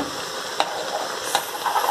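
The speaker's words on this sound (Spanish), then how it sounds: "Dejamos freír y dejamos que los huevos" Eggs frying in a pan with tomato and onion for a perico scramble, giving a steady, close, soft sizzle with a couple of faint clicks of stirring.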